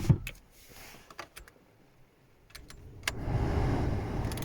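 Electric power windows on an Audi 80/90 running after the ignition is switched on: scattered clicks and small knocks, then a steady motor whir rising and holding near the end, close by with no talking.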